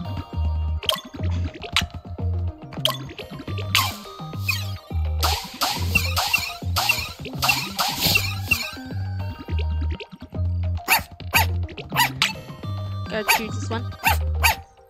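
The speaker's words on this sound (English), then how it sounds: "Which one's barking?" Dogs barking in the video game Wobbledogs 2, with repeated short barks over a rhythmic game music loop while a person talks.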